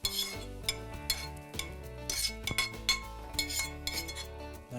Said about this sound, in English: Lentils go here, and all this delicious onion and spice mixture, curry leaves, all go into here.